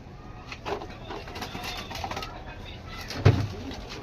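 Pigeons, among a flock of about six birds, giving faint low coos in the background, with one louder, closer burst near the end.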